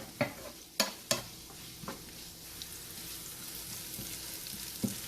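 Onions for a mutton stew sauté in a pan with a steady low sizzle, broken by several sharp clicks and scrapes of a spoon stirring against the metal.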